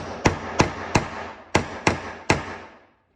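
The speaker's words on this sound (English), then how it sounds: "then you can tap it in with a small hammer you'll feel it click or make a clicking noise" Six sharp metallic taps from a small hammer on a punch seating an RC connector, close and evenly spaced, each ringing briefly before fading into quiet.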